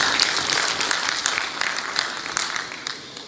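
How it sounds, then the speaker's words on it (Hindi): Audience at a poultry federation annual general meeting applauds in a steady, dense clap that holds for the whole stretch with no voices over it. "एक बार इनके लिए तालियां से स्वागत किया है।"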